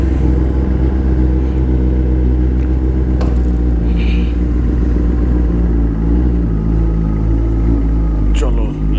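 Steady engine drone of a Kawasaki ZX-10R superbike on an early-morning foggy ride in Kolkata, a constant loud rumble with a rider talking over it.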